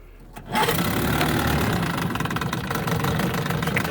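A small boat outboard engine, started in gear with the choke set, catches after a pull and settles into a loud, close, steady idle with a rapid mechanical chatter that continues to the end.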